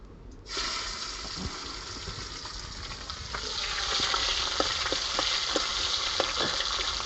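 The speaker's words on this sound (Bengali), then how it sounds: "তারপর কুচানো পেঁয়াজগুলো ছেড়ে দিলাম।" Chopped onions drop into hot oil in a pan for a crab bhuna, bursting into a loud, steady sizzle that builds and holds, with small crackles and pops scattered throughout and no talking.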